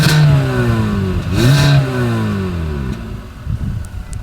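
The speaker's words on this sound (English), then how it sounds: "here is that exhaust clip." A 2025 Hyundai Venue's exhaust revs up twice, rising and falling in clear harmonic sweeps, then settles toward idle with some clatter at the end; loud and close, with no talk.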